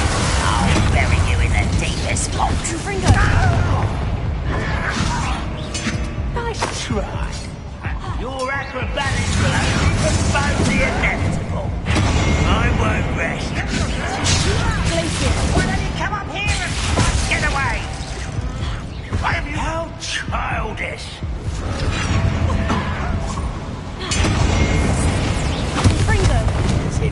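Fiery Confringo blasting-spell explosions in a dragon-freeing video game, a dense run of booming bursts and crashing impacts repeating over busy combat noise, with occasional voices under the din.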